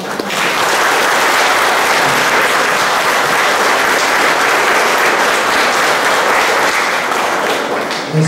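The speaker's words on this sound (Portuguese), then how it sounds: "Uma salva de palmas." A congregation at a baptism mass breaks into loud, sustained applause that fills the church evenly for several seconds, dense and steady with no talk over it.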